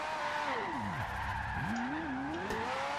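A Ferrari F40 drifts sideways on the handbrake in Forza Horizon 2, with the engine note sweeping down and back up and a steady tire squeal throughout.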